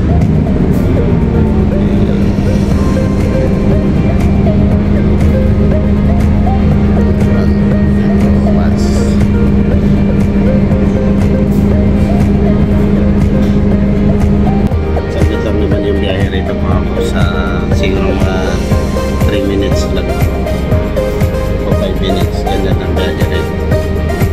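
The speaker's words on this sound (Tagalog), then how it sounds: "Nasa bus na ako mga paps, nakasakay na ako ng bus." Inside a nearly empty moving bus, a steady engine drone and road rumble run throughout, pitch holding level then shifting partway through, with someone talking over the noise.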